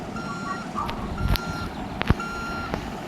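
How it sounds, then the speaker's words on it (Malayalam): A truck in the video game RV backs up, its reversing alarm sounding as a thin, repeating electronic beep over low engine rumble, with a few soft thuds. "ഞാൻ റിവേഴ്സ് എടുക്കട്ടാ"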